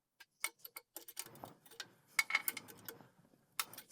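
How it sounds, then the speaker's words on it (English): Wrench ratcheting a nut onto a bolt on a lower air bag mount bracket of a Jeep Gladiator, a quick series of faint, sharp metallic clicks in uneven bursts. "Use a 1/2 inch wrench to tighten it"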